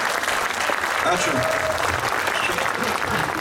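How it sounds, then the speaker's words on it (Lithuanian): An audience applauding loudly at the unveiling of a sculpture of John Lennon in Vilnius, a dense, sustained clapping wash heard up close, with a short spoken word over it. "jūs turbūt girdite audringus plojimus dabar"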